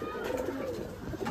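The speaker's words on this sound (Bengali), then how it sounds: "এই যে দুটো বাচ্চা কবুতর" Pigeons at a large pigeon farm with about 500 birds, where young birds are kept, coo in low, overlapping murmurs that carry steadily at moderate volume with no talk.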